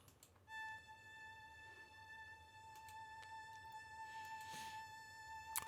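A single viola note from the Albion 1 Amati viola library is held steadily and starts just after the opening. The tone stays clear and constant, with faint rustles and clicks behind it.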